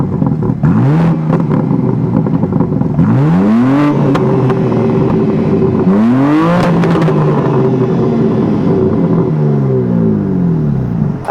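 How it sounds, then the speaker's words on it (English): Repeated revs from the S58 engine and exhaust of a 2023 BMW M2 with a manual gearbox, each blip sweeping up and falling back in a loud, close, rhythmic series, with no talking. "the exhaust doesn't sound that great. It sounds fine. In fact, let's hear that real quick."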